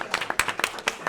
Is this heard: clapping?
yes